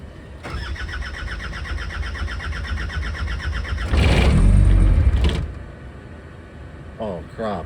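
A skid steer engine being started, a long cranking churn that swells louder near the end and then cuts off without catching. Brief speech follows.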